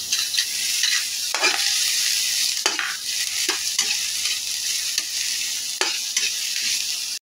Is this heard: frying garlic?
yes